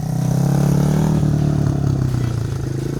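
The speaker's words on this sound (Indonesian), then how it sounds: "Tinggal ngegas ala motor matic aja nih." An automatic scooter-style motorbike revs on a dirt track at an adventure park, giving a loud, close, continuous engine drone with a steady low rumble and slight clatter throughout.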